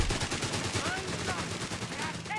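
Sten gun fire from sappers in a Company of Heroes 3 match: rapid, close bursts of small-arms rattle run continuously under a steady wash of battlefield noise.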